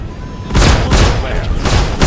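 A missile launch in Star Citizen during a Vanguard co-op dogfight: a loud, sustained roaring whoosh, followed by further heavy booming bursts.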